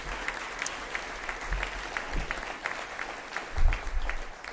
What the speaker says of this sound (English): If we could give our presenters a big round of applause, that'd be fantastic.